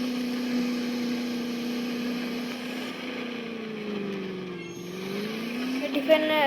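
A Land Rover Defender engine in the Indian Vehicle Simulator game, a steady low drone that dips and then climbs in pitch as it labours uphill, with a faint clatter near the end.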